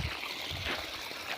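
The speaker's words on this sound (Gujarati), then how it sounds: "જો અહીંથી પાણી અત્યારે બાજરીમાં જાય છે।" Irrigation water flows steadily through a field channel into a millet crop on a farm, a faint, continuous trickling hiss with no voices.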